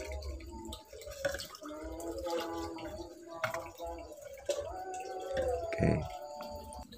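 Petrol drips and trickles after being poured over the mat of a bird cage, a series of small wet drips heard close up while people talk.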